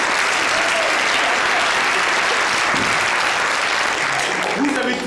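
A comedy club audience at a French one-man stand-up show claps loudly and steadily for about five seconds, a dense, continuous wash of applause with a few scattered voices near the end.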